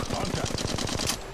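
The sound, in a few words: gunfire in Apex Legends video game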